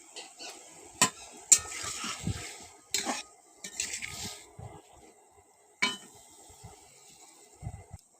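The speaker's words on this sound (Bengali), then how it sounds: "আবার খুন্তির সাহায্যে একটু ভালো করে নেড়ে নিলাম।" Raw pumpkin pieces stirred in a wok with a metal spatula, irregular scraping clinks and sharp metallic knocks over a faint sizzle of frying, close and alone.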